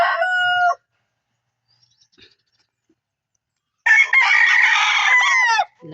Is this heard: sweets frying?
no